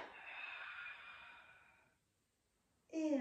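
A long, steady exhale during a Pilates mat exercise, breathy and close, fading out over about two seconds before a short pause and the start of a fresh breath.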